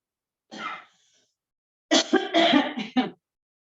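A brief throat clear, a short pause, then a rough burst of coughing and throat clearing from one person nearby.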